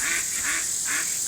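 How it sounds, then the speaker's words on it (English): Ducks quack loudly and repeatedly close by, several honking calls in quick succession over a steady background hiss. "shut up ducks."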